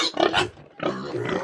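Several pigs grunt and squeal loudly at close range while waiting for feeding time, in two noisy bursts separated by a brief lull.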